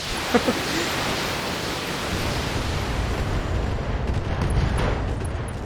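A Rifleman mech unloads its weapons on a Griffin in BattleTech, a dense, steady barrage of roaring, rumbling gunfire that stays loud and continuous throughout.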